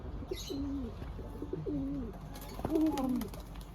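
Pigeons coo softly in repeated low, rolling calls, with a faint chirp or two in the background.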